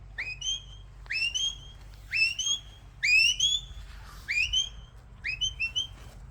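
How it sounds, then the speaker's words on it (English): A shepherd blows a series of sharp two-tone whistle commands to a sheepdog working sheep at an outdoor demonstration in Ireland. About six short, rising bursts sound clearly over a low background rumble. "If we look at the whistle commands"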